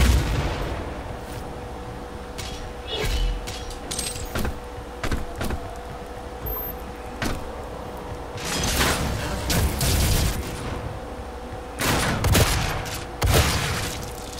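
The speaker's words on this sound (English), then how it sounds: "shotgun shots were not on point" Gunfire in DOOM multiplayer on Xbox One, with a series of loud, sharp shotgun-like blasts at irregular intervals over continuous game noise and rumbling bursts across a busy firefight.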